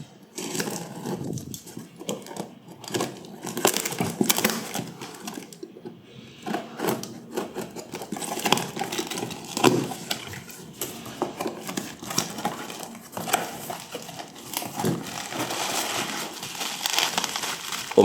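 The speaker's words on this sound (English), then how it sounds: "Ew, the bubble wrap though." Bubble wrap around an RX580 graphics card crinkles and crackles continuously while being unwrapped and handled, a close, busy rustling texture with irregular bursts, no talking.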